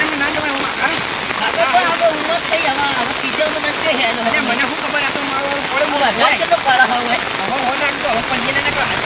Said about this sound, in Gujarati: ત્યાં વરસાદ હારો આવે